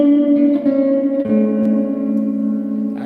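Electric guitar played through a TC Electronic Drip spring reverb pedal, held chords sliding to a new chord midway, with a lush reverberant wash, loud and close, no voices.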